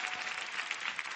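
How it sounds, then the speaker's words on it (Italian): Audience applause in a televised interview studio: a brief, steady wash of many hands clapping, moderately faint and continuous with no voices over it. "E direi un applauso ad Alessandra,"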